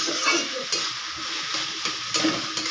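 Boiled potatoes frying with banana flower in a pan, a continuous hissing sizzle broken by a few sharp scrapes and knocks of a spatula stirring, close and moderately loud.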